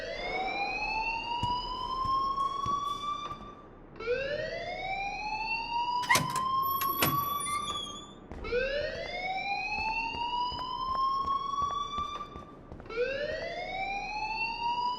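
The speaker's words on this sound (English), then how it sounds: "please turn off that alarm since that's your job" A school fire alarm in the video game Life is Strange wails in repeated rising sweeps, each lasting about four seconds, loud and continuous, with brief electronic chirps in between.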